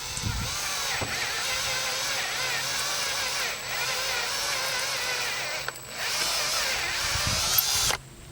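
A twist drill bores out a rivet on a Ford Escort/Mercury Tracer AC relay module, whining steadily and close for about eight seconds, with brief dips where the bit catches or eases off.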